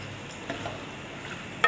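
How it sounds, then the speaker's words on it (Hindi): Turnips being stirred in about a cup of hot oil in a pan, a steady close sizzle with a soft scrape and a sharper clink at the very end. "अभी हम इसके अंदर 1 कप ऑयल डालने लगे हैं, बिस्मिल्लाहिर्रहमानिर्रहीम। और शलजम को हम अच्छे तरीके से भून लेंगे"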